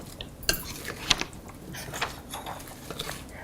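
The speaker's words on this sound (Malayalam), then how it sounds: "ഇനി ഇതിലോട്ട് നമ്മൾ വേവിച്ച് വെച്ചിരിക്കുന്ന കോളിഫ്ലവർ ഇട്ട് ശരിക്കും മിക്സ് ചെയ്യുക." Cooked cauliflower is stirred into chili masala in a pan, making soft clinks and scrapes of a utensil against the pan in an uneven rhythm, close and quiet.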